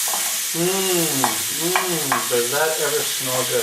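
Onions stirred and frying in a pan for a Polish kielbasa dish, a steady hiss and crackle under a man's brief remark.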